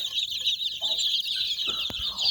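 Soft clucking from chickens over a steady high chirping of 60-day-old chicks, fairly quiet, with no talking.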